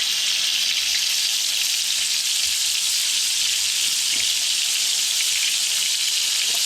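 Catfish fillets fry in a hot pan with a loud, even hiss of sizzling oil that fills the whole stretch, steady and close with no talking.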